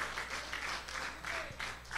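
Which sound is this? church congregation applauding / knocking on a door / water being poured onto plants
church congregation applauding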